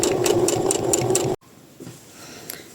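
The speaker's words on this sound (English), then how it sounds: "in the end I will just going to sew with a straight stitch" Sewing machine running a straight stitch along a hem, a loud rapid mechanical whir with rhythmic ticking for just over a second, then stopping abruptly, leaving quiet room tone.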